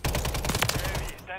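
Rapid gunfire from a WSP-9 in Call of Duty MW3 multiplayer, a dense burst of automatic shots for over a second that cuts off abruptly, loud and close.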